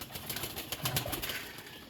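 Pigeon hens coo softly in a loft, a faint steady murmur of low calls with light rustling and distant ambient noise, no voices.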